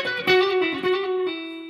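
With the tone knob rolled closed, an electric guitar through distortion pedals repeats a brief phrase. The picked notes sound darker and rounder, with a long held note at the end, played solo with no voices.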